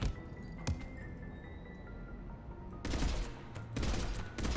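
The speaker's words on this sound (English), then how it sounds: "It is a burst rifle." At a firing range in Mass Effect 3 Legendary Edition, a burst rifle fires repeated rapid volleys. The loud, dense bursts come in clusters separated by quieter stretches.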